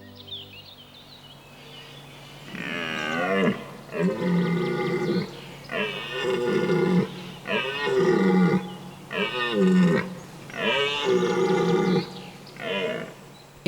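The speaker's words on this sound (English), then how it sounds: "In full rut, belling or roaring loudly, stags challenge their opponents." Red deer stags in the autumn rut bellow in a northern Vosges forest, a run of about seven long, loud, rasping roars following one another closely after a quiet start.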